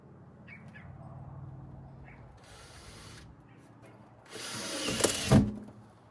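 A screw driven into the rear door of a Ford Transit van during a camper conversion, a short whirring drill burst followed by a louder grinding run ending in a sharp clunk, heard close.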